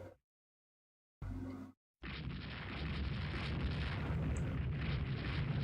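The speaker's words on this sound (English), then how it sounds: "decent amount of gunfire" Heavy booming naval gunfire from the game Rule the Waves 2, a short blast followed by a sustained roaring barrage of explosions, loud and continuous.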